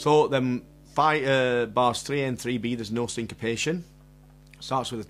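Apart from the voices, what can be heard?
No everyday noises stand out.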